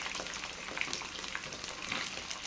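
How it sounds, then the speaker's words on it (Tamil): Eggplant slices cut lengthwise sizzle in hot oil in a pan, a steady soft frying hiss with faint crackles throughout, fairly quiet and without talk. "சேர்த்துட்டு நல்லா ஆயில்லையே வதக்கி எடுக்கணும்"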